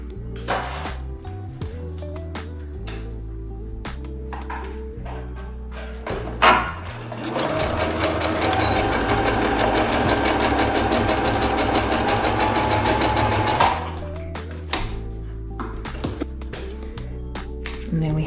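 Sewing machine running in one steady sustained burst as it stitches a seam on a one-piece boxed cushion cover for a van build, with a half-inch seam allowance, preceded and followed by quieter handling and talk nearby.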